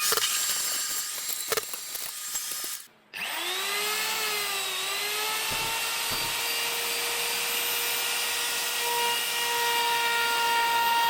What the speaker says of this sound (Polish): Teraz wysysam odkurzaczem, więc tak bardzo się nie pyli